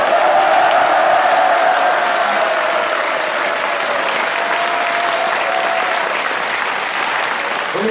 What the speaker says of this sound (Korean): 어이가 없으시면 큰 박수로 체크해보겠습니다.